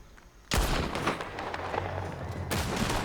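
Gunfire in the video game Red Dead Redemption 2: a sharp shot followed by sustained, loud rumbling gun reports and echoing blasts, then another heavy burst near the end, with no speech.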